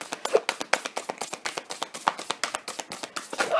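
Tarot cards are shuffled close up in a quick run of crisp riffling flicks and taps, steady and rhythmic, with no voices.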